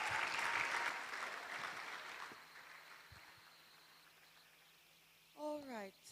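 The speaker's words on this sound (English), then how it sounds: "Please, another round of applause for Professor Njoko." Convention audience applauding a speaker at a medical and dental professionals' gathering, dense clapping that starts loud and fades away over several seconds, leaving a quiet room and a few brief voices near the end.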